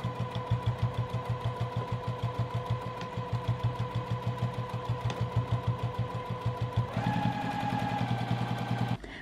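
A sewing machine stitching back and forth over the handle of a drawstring squishy bag, a rapid, even train of mechanical stitches up close that shifts pitch and speeds up slightly near the end as it reverses direction.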